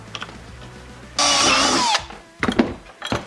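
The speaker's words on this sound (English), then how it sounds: "drill a hole" A power drill bores a hole in a trailer while fitting accessories for a Ski-Doo 850 snowmobile, giving one loud sustained high whine of under a second, followed by short clunks and handling noises nearby.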